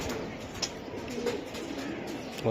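Strong racing pigeons in a loft coo softly in low, rolling calls under steady background noise, with a brief brighter chirp and a louder burst at the very end.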